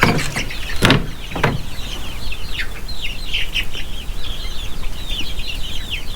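Young egg-laying chickens about two months old cluck and chirp softly in a farm pen, a string of small peeping calls close by over a steady background, with a few sharp knocks early on.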